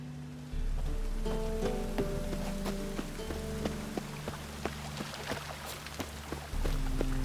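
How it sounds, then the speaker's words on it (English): Steady rain patters with scattered distinct drops over a low, continuous hum and faint tonal background sounds, in the video game The Witcher 3: Wild Hunt on PS5. "And it's raining again."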